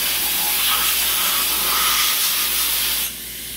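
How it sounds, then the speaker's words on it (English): Compressed air blasts coolant and chips off a machined part in a DMG MORI DMU-50 CNC machine, a loud, steady hiss lasting about three seconds before cutting off to a quieter background. "So right now, I'm going to go ahead and blow off my coolant."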